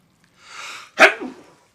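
A muffled sneeze buried into a face: a soft breathy intake followed by one stifled, close burst, with no speech.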